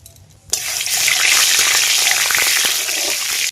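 Black cumin seeds drop into hot oil in a wok and burst into a loud, close, continuous sizzle that starts abruptly and holds steady.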